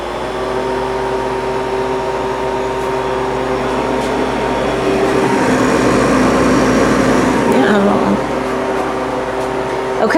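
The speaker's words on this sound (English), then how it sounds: "we have our freeze dryer on, and we're going to press start" A home freeze dryer starts up and runs with a steady, loud mechanical hum and whir, its tone shifting partway through as a compressor or pump kicks in.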